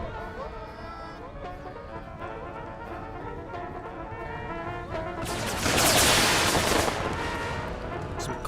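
Artillery fire in Empire: Total War with the Brothers vs. Brothers mod: booming battle noise runs through a busy game soundscape, swelling into a loud, broad blast of distant cannon fire and explosions around the middle.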